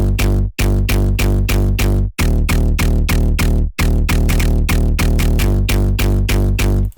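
A hard EDM synth bass preset pounds out a beat in loud, sustained rhythmic notes with brief gaps between phrases, heavy and dense in the low end, with no voice.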